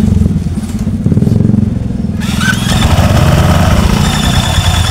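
Honda Vario 150 scooter with a squealing fault at idle starts up and settles into a steady, loud, close idle, its motor chugging continuously.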